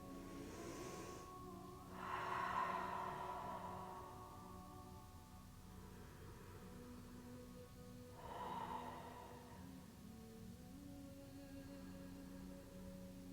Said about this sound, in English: Final 3 deep breaths here.